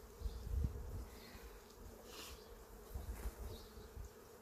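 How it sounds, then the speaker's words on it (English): Honey bees buzz softly around an opened hive, a faint, continuous drone with slight swells and a few louder passes close by. "These bees are going to get pretty docile here in a second"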